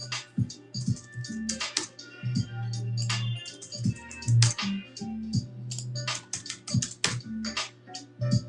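Computer keyboard typing while notes are entered during a Topps Chrome Cosmic card break, with irregular clicky keystroke bursts throughout over a steady low hum.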